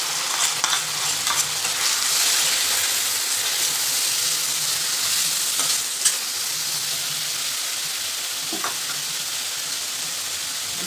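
Chopped tomatoes sizzle and hiss steadily with softened onions in a pan for a large batch of pav bhaji, with occasional scraping stirs and light clicks of a spoon against the pan, close and continuous throughout.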